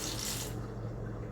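Excess water is tipped out of a pot of rice in a short splashy pour that stops partway through, followed by a softer trickle.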